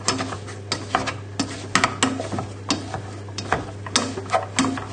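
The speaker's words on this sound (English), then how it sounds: "And then just on a low heat, I'm going to mash the potatoes." Potatoes being mashed in a pan over low heat, a steady run of soft, squelchy thumps and scrapes repeating about twice a second, close and fairly loud with no talking.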